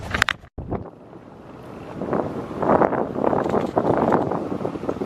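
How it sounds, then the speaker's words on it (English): Strong gusty wind roars across an outdoor microphone on a walk in nature, a steady rumbling buffet that swells and stays loud after a brief dropout at the start. "Oh, it's really windy now right when I try."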